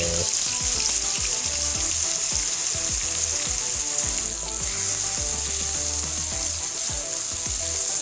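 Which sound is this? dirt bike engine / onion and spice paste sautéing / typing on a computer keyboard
onion and spice paste sautéing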